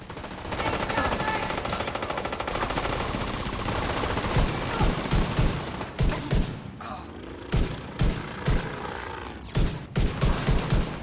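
Rapid automatic gunfire from a shootout in Tom Clancy's The Division, a loud continuous stream of shots that breaks into separate sharp bursts and single shots toward the end.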